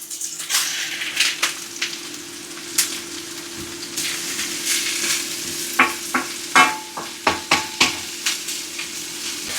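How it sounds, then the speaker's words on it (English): Stir-fry vegetables frying in oil in a pan with garlic and onion, with a steady sizzle under repeated sharp scrapes and knocks of stirring that grow more frequent toward the end. "Right, going to add in the rest of the stir fry."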